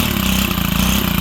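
A Stihl HT 131 pole pruner engine runs on a test start after an overhaul with new fuel lines and primer bulb, a loud, close, steady small-engine drone with a rapid even firing pulse.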